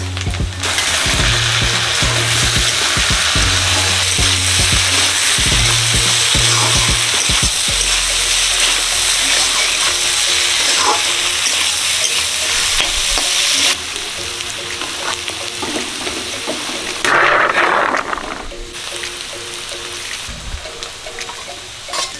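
Potatoes sizzle and crackle loudly in a pan for a long stretch, with stirring scrapes and a brief watery splash partway through.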